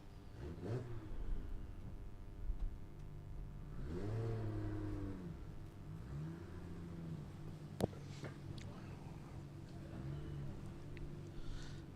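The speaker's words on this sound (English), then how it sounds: "So the Skyline RB30 6-cylinder turbocharged" A turbocharged Nissan Skyline RB30 six-cylinder drag car engine revs and accelerates at a drag strip, a steady mid-range roar with rising pitch sweeps and one sharp crack, heard at moderate distance over crowd ambience.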